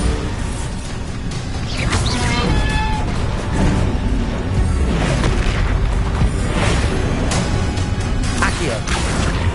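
Bombarda spell explosions in Hogwarts Legacy on PS5 burst out amid loud, dense combat noise, with booms, crashes and clattering debris layered continuously and close throughout.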